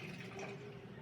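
Blue coolant poured into the radiator of a 1983 Volvo 242, a steady close liquid rush and gurgle running the whole moment without pause.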